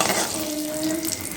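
Mustard seeds and urad dal crackle and sizzle in hot oil as they are stirred, a busy close-up frying hiss with light scraping.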